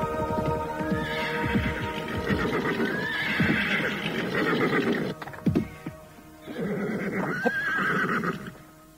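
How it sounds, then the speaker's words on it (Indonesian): A white horse galloping fast, with rapid hoofbeats under repeated loud neighs and whinnies, three distinct calls rising over the rhythmic clatter, close and prominent. "Dari arah barat nampak seseorang menunggang kuda putih dengan kencangnya."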